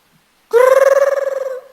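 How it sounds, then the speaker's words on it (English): A loud alarm ringing alone: one sustained electronic trill, steady for about a second, then fading, after silence. "Like my alarm is ringing now."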